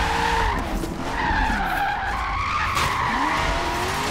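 Tires squeal continuously as a Corvette drifts through a lap in Forza Horizon 3, with the engine note rising and falling under the loud, sustained skid.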